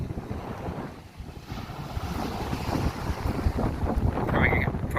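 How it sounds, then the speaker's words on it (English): Strong wind blowing on a seaside beach on Anmyeondo Island, South Korea, a continuous loud buffeting roar of gusts against the microphone with surf noise underneath. "Probably can't hear me anyway because of the wind."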